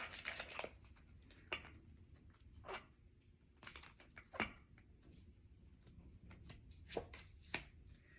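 A tarot deck is shuffled by hand in repeated bursts, crisp riffling and snapping of cards spaced a second or two apart, close and fairly quiet with no talking.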